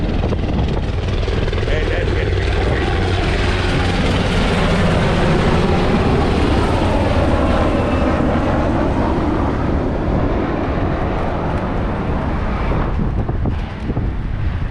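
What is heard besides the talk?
helicopters flying overhead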